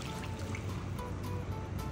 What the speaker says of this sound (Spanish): Tomo mi caldito de verduras y le agrego otra taza más.